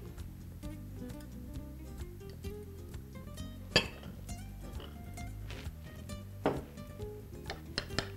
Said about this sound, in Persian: این را هم خوب لط میزنم تا اینکه الکل سفید همراه سفیدی تخم مرغ خوب مخلوط شود.